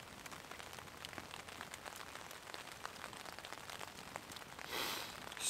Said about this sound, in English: The crackle of the fire and the rain on the tarp